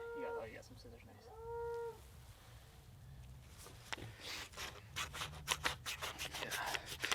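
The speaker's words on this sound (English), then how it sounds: "You got some scissors, nice." Scissors snip repeatedly at close range outdoors, a run of quick crisp cuts through paper, following a few tonal voiced sounds and quiet speech earlier on.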